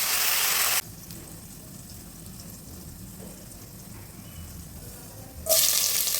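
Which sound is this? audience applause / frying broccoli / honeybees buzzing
frying broccoli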